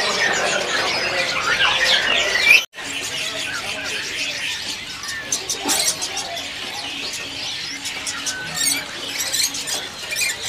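Red siskins in a bird kiosk, where small songbirds are kept for sale, give busy high chirps and squeaky twitters. The calls are fairly close and repeat in quick bursts over people talking in the background.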